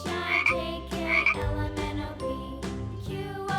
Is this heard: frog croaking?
yes